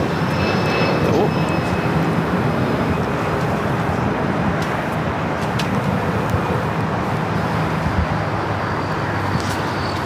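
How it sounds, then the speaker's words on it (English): A Turkish Airlines Dreamliner jet taking off from the south side of LAX, a loud, steady engine roar that fills the whole stretch without letting up. "We should be seeing the Turkish Dreamliner taking off here on the south side."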